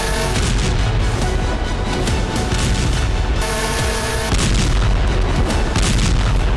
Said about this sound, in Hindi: शांति वार्ता के बीच धमाकों का दौर जारी है।